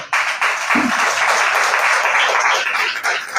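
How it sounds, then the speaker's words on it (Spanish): Sustained applause from a church congregation, a steady wash of many hands clapping at once, loud and continuous throughout. "Yo creo que él se merece un aplauso en esta hora."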